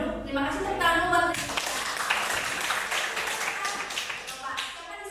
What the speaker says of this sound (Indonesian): Terima kasih tepuk tangan buat